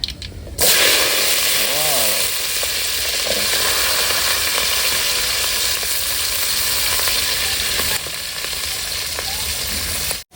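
Small sambar shallots, home-grown green chillies and garlic frying in hot oil for a fish curry, a loud, dense, continuous sizzle close by, with a brief voice early on.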